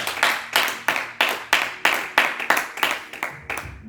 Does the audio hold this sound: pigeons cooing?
no